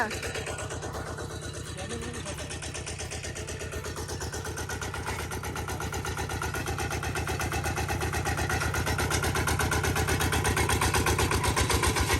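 A diesel tractor engine chugs in a steady, rapid rhythm close by, growing slightly louder over time, with voices talking over it.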